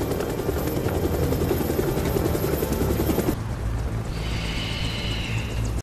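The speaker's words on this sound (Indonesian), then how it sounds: "tiba-tiba muncul sebuah helikopter yang tampaknya dimiliki oleh pamannya Kiko." A helicopter arrives with a loud, steady rotor thump and engine roar that fills the scene, then the sound abruptly drops to a lower, more muffled hum with a higher whine appearing near the end.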